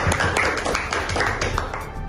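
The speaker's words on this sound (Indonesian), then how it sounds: "Sebelumnya beri tepuk tangan untuk dua kandidat kami" An audience claps for two student election candidates with a light, scattered patter of hands at moderate volume, the individual claps loosely spaced over a brief stretch.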